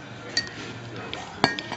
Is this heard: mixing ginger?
yes